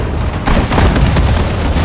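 Gunfire and a heavy explosion in the WWII strategy game Sudden Strike 4, Battle of Bataan mission: a muffled rumble swells into loud booms and scattered shot cracks, holding dense and steady to the end.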